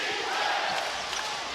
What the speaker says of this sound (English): Crowd coming alive.